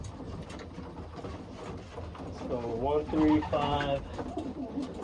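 Racing pigeons coo in a loft, soft throaty calls rising toward the middle and end of a few seconds, heard under a man's nearby speech and general shuffling.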